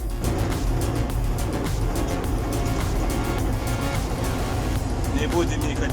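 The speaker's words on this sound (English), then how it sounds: "That's the sound of a 22-liter atmospheric engine purring its way through a field." A K701 tractor's 22-liter naturally aspirated engine runs steadily and loudly through a field, its deep continuous drone filling the whole stretch without a break.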